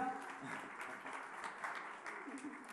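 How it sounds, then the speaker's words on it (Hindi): An audience at the Aaj Tak Agenda event applauds Bollywood singers Palak Muchhal and Mithoon, with steady clapping from a crowd heard faint and somewhat distant. "देश की जनता आपको देख रही है और तालियां आपके लिए बजा रही हैं"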